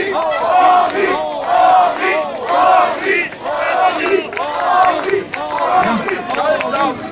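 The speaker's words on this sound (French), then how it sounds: "Un applaudissement." A rally crowd in Colmar protesting territorial merger shouts and cheers in loud, rhythmic surges of massed voices that swell and fall every second or so, close and sustained throughout.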